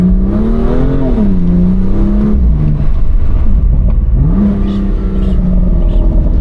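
A BMW M2 Competition F87 engine revs hard, its pitch sweeping up and down twice while exhaust burbles crackle, loud and close from inside the car, with no talking.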